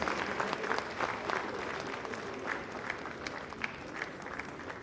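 A conference hall audience claps for the vice president, a sustained, even round of many hands with occasional sharper individual claps standing out, and no speech over it.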